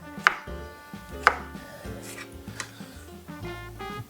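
Knife chopping mushrooms on a cutting board in a home kitchen, a few sharp cuts among softer rhythmic taps, close and quiet with no talking.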